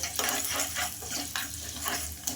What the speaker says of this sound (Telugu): ఈ నువ్వులు కూడా కాస్త చిటపడమైన వరకు అయితే ఫ్రై చేసుకోవాలి